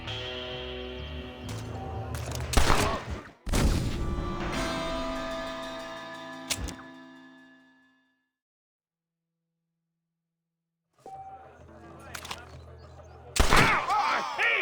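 Gunfire in the Western video game Red Dead Redemption, sharp close shots and a short volley echoing with music and game sounds, a silent gap midway, then more loud cracks near the end.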